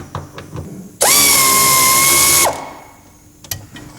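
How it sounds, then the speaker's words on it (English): A power ratchet runs a bolt off a car gearbox support plate in one loud, steady whirring burst of about a second and a half. Before and after it come quieter clicks and handling noises. "I'm now going to take out these 5 bolts"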